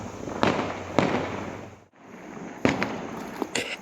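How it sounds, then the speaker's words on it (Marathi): Firecrackers bursting one after another in a village after election voting ends, several sharp cracks spaced unevenly, each leaving a crackling hiss, with a brief lull in the middle. "आता इथे गावात वाजतायत फटाके"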